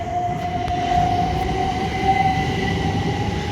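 A Class 377 electric train runs past on a British line, a steady rumbling roll of wheels on track with a faint high whine, moderately near and without voices.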